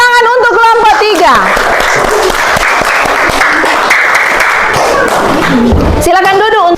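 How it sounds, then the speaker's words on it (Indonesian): A classroom of elementary pupils claps for a group that has just presented, a loud, dense burst of applause lasting several seconds between spoken instructions from the teacher. "tepuk tangan untuk kelompok 3."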